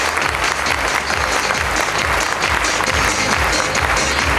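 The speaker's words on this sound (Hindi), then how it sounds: "एक बार इन महागुरुओं के लिए प्लीज जोरदार तालियां।" Audience applause at a live event, a thick, continuous wash of many hands clapping from a large crowd, loud and sustained throughout with no pauses.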